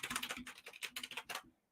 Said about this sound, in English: I'm typing in Marvel Legends Odin